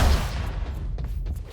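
An old cannon fires in Quantum Break, its heavy low boom landing at the start and then rumbling and crackling off as a series of smaller distorted bursts trails away.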